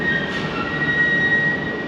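Heathrow Express train running with a steady rumbling roll and a thin high wheel squeal, heard from inside, continuous and close with no talk.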